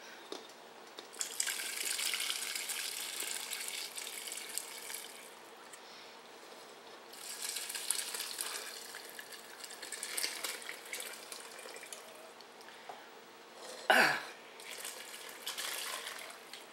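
Water poured into a cooking pot for homemade vegetable beef soup, several gushing pours of varying strength with brief pauses between them and a short splash near the end, no talking.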